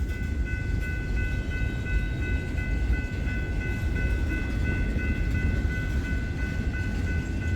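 A train rumbles steadily close by with a constant low roar and a high sustained whine from the rails, no voices.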